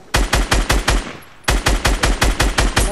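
Rapid automatic gunfire rings out in the Fortnite Battle Royale video game, two loud, evenly paced bursts of shots close up, separated by a brief pause.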